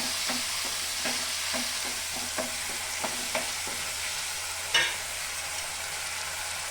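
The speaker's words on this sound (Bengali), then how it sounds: "মশলা দেওয়া জল অল্প দিয়ে দেবো।" Spiced water poured into a hot frying pan while making white paneer, giving a broad steady sizzle with a series of short stirring clicks and a sharper splash near the end, close and alone.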